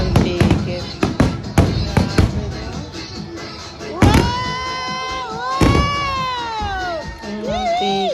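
Repeated sharp bangs and crackles of fireworks at the Suwa Lake fireworks festival in Japan, in quick bursts, with cheering and excited voices rising over the blasts.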